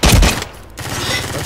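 Glock pistol gunfire, a loud burst of shots at the start, then a brief lull before a rattling run of rapid reports resumes.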